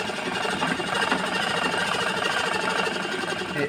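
A sewing machine runs a steady basting stitch along a blouse seam, its needle hammering in a fast even whir that stays close and constant throughout, with no talking.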